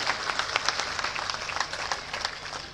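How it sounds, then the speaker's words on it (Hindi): Audience at a political party rally and workers' gathering applauds to welcome a leader, a moderate burst of crowd clapping heard from within the hall, steady and fairly even throughout. "हम सबके नेता आदरणीय राजेंद्र शुक्ला जी का जोरदार ताली बजा के एक बार इनका स्वागत, वंदन, अभिनंदन किया जाए।"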